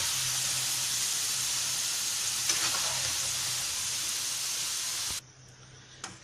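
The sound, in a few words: potatoes frying in oil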